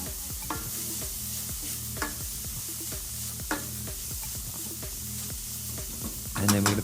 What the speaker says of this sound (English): So we put all that lot there, stir that around a little bit.